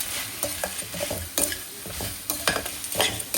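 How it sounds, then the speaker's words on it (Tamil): Crab legs and tomato sautéing in a pan for crab rasam, with steady stirring scrapes and clacks over a soft background sizzle, close and moderately loud, with no voices. "நண்டு ரசம் நண்டு கால் போட்டு சூப்பராக வதக்கிடலாம் ஃப்ரெண்ட்ஸ்"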